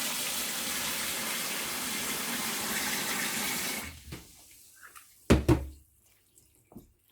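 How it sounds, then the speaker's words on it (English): Cold water pours in a steady, rushing stream for about four seconds, then stops, followed by a few scattered clinks and drips, while making a pineapple skin, lemon, ginger and turmeric drink. "I'm gonna put some cold water on it."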